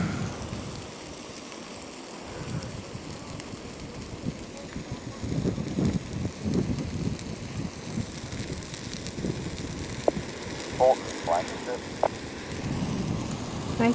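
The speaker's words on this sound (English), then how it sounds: "Wind again is picking up." Wind gusting through a burning black spruce forest in an Alaska wildfire, a steady broadband rush that swells in waves with crackling bursts, under occasional distant voices.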